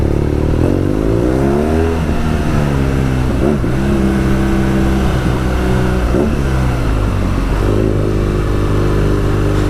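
A 2020 BMW R nineT Scrambler boxer engine runs steadily on the road, a loud, rumbling drone with pitch rising and falling as the throttle changes and occasional brief pops breaking through.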